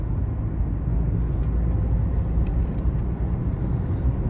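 A car's interior rumble fills the clip as it drives over a bridge, with a steady, loud low-frequency road and engine drone and a few faint higher ticks.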